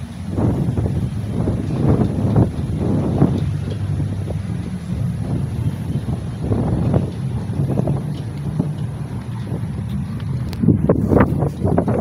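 Strong wind in Rizal Park (Luneta), Manila, buffeting the microphone in a steady roar with gusty surges throughout, loud and close, and no speech.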